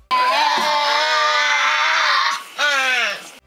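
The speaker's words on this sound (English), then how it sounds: "when a group of them feeds together, they screech and scream" Tasmanian devil giving a long, harsh, high screech that runs unbroken for about two seconds, then breaks off and resumes, loud and close.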